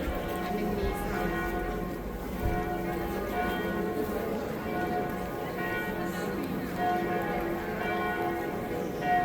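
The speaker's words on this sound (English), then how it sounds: "we can hear these bells from where we live." Church bells ring in Paris, heard from up on a hill, with sustained overlapping tones carrying over a murmur of outdoor ambience and distant voices.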